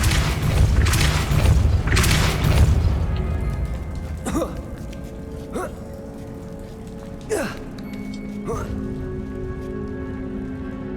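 Repeated Depulso spell casts in Hogwarts Legacy: sharp whooshing impacts with ringing tails, four distinct bursts spaced a second or two apart after a denser stretch of rumbling game sound.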